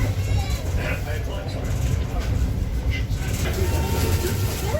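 Steady low rumble and rattle of a carriage on the Spa Valley Railway, a heritage steam line in the UK, running continuously throughout with faint bird calls and people talking over it.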